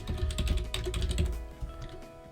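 Rapid, steady keystrokes on a computer keyboard while an address is entered into a form, close and clear with no voices, the tapping thinning out near the end.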